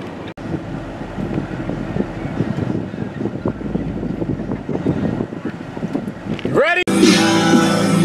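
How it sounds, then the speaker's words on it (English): A boat rumbles on the water as wind buffets the microphone in gusts; music abruptly starts near the end. "Putting the boat in the water."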